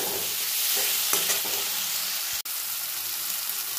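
Spices stirred through cabbage and fish curry vegetables in a hot pan, a steady close sizzle with scraping spoon strokes and a brief clack near the end.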